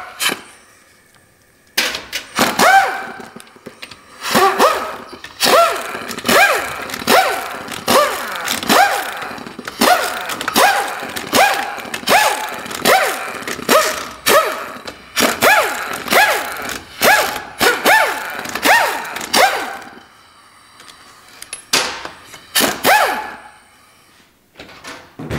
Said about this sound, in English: Then we'll get our half inch back on it. And we will get all the bolts out to get the pan off,